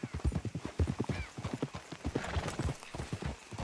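Horse hooves clip-clop at a steady rhythm in the video game Red Dead Redemption 2. The hoofbeats are close and clear, and a brief whinny sounds partway through.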